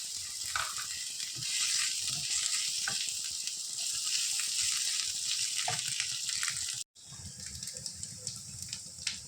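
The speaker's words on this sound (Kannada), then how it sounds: "ಈರುಳ್ಳಿ ಫ್ರೈ ಆಗ್ತಾ ಬರುವಾಗ ಇದಕ್ಕೆ ಬೆಳ್ಳುಳ್ಳಿ, ಶುಂಠಿ ಪೇಸ್ಟನ್ನು ಹಾಕಿ" Onions frying with garlic and ginger paste in a pan for prawn biryani, a steady bright sizzle with occasional stirring clinks, briefly cutting out near the end before resuming.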